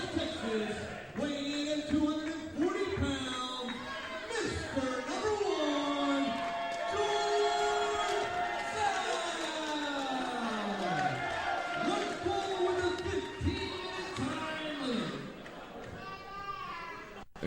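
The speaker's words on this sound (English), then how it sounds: "you hear this crowd getting all over the Assassin there" A professional wrestling crowd jeers and shouts at the Cuban Assassin, a loud sustained roar of voices rising and falling, with a commentator talking over it throughout.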